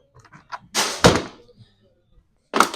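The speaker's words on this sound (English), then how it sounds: "I'm going to take the recoil off as well, because I need to do something with that." A recoil starter comes off a STIHL BT131 earth auger with a few close, dull plastic thunks and knocks, the loudest clunk near the middle and another at the end, separated by quiet.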